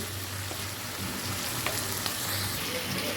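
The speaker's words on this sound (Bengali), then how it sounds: "ফিরে আসছি মশলা কষানোর পর এখন এই যে হাঁসের মাংসগুলো এক এক করে সব দিয়ে দিব" Pieces of duck meat go into spiced masala in a hot pan, giving a loud, continuous close-up sizzle with faint stirring scrapes and no talking.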